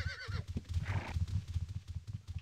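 Horse in the Ultima Online video game giving a clear whinny at the start, followed by a steady run of clip-clopping hooves that carries on alone.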